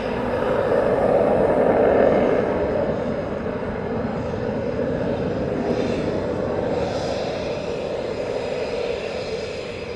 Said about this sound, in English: Got a couple more taxiing out now.